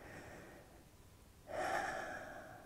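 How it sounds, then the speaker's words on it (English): A single deep breath during a relaxation exercise, a soft airy breath followed by a louder, rushing exhale through the nose and mouth that swells and fades over about a second, close and alone in a quiet room. "Couple of nice deep breaths in and out."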